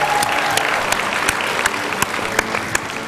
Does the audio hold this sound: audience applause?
yes